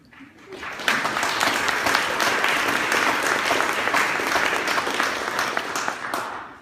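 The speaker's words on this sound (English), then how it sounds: "she deserves a round of applause" Sustained applause from an audience at the opening of Shetland Wool Week, rising sharply after a quiet start and holding as dense, even clapping to the end, with faint voices mixed in.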